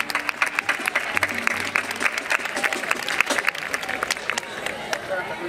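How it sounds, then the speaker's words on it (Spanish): A street crowd at a carnival comparsa performance claps and cheers, sharp individual claps standing out over a lively babble of voices, with a brief low hum partway through. "¡Un aplauso, por favor!"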